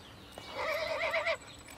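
A horse at the Royal Andalusian School of Equestrian Art in Jerez, southern Spain, gives a single short, quavering whinny, fairly faint and heard alone against a quiet background.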